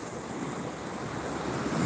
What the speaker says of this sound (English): The waves are coming up, so we have to move our shell spot a little higher.